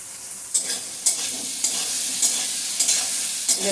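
Eggplant sizzles steadily in hot oil with salt and turmeric, a bright crackling hiss close up, broken by periodic scraping stirs of a spatula in the pan, with no voices.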